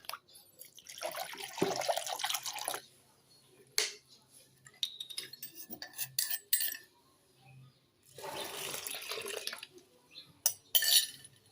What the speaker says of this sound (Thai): นี่ครับเราใส่น้ำลงไปอีกนะครับ